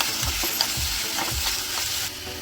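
Tomatoes with turmeric and salt fry in ghee for a tadka, giving a steady close sizzle with rhythmic stirring scrapes throughout and no voices.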